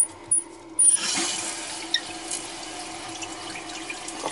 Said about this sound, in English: We're gonna fill it and flush it, make sure it don't leak on the floor.